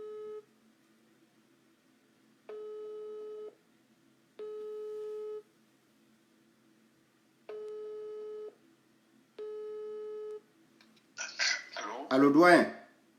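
A phone rings out during a call: five evenly spaced tones, each about a second long, separated by silence, before a brief burst of voice at the end as someone picks up.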